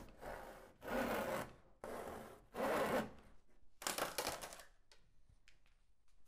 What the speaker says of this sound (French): de là, on scie toute la pièce arrière